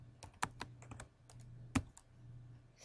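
Quiet, close keystrokes on a computer keyboard, irregular clicks in a short run with a couple of louder key presses, over faint background hum.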